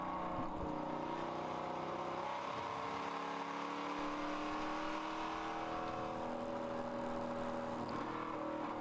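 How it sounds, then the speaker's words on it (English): An SRX Racing Camaro endurance race car driving at Road America, its engine a steady drone as it climbs and falls through gear changes, heard from a distance with no talk. "Hop behind the wheel of the SRX Racing Camaro"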